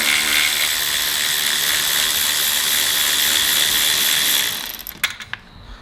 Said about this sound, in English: So he's gonna hold that while I undo this last bolt.